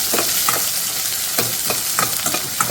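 Onion and jaggery fry in a pan with a steady, close sizzle, broken by repeated scraping and stirring strokes of a spoon against the pan, with no talking.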